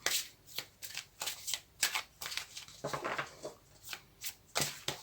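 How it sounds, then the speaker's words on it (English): A tarot deck being shuffled by hand, a run of crisp riffling and slapping card bursts in uneven rhythm, close and moderately quiet with no talking. "My shuffling's pretty terrible."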